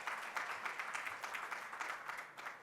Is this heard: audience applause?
yes